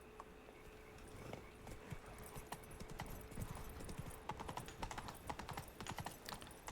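Roach the horse gallops in The Witcher 3, a quick, rhythmic clip-clop of hooves, soft and fairly faint, running steadily throughout.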